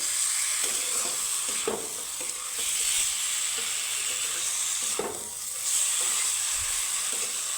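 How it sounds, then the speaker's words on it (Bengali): Potatoes and pointed gourd cooking with spices in a pan, a steady close sizzle and hiss with occasional scrape-like stirring bursts throughout, no voices. "মশলার সাথে তো আলু পটলের সাথে মোটামুটি এক মিনিটের মতো আমি সুন্দর করে কষিয়ে নিব"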